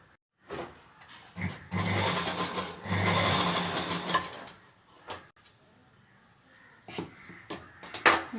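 A sewing machine stitches a half-inch seam on a lehenga dress in two close, buzzing bursts, followed by quieter intermittent clicks and brief short whirs.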